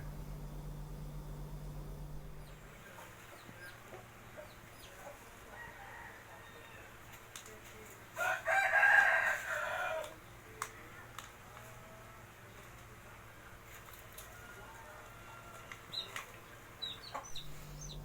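Chickens crowing and clucking on a farm while pecking at leftover wood ash from a fire; a loud crow rises mid-clip over steady low background hum, with scattered clucks and small knocks around it.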